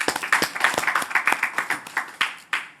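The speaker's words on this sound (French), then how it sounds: "Donc on les applaudit bien fort." An audience at a senior citizens' cultural event applauds with sparse, uneven claps from a small crowd that thin out over about three seconds, ending in a few last isolated claps.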